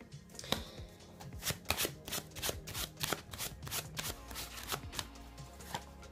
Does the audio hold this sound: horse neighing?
no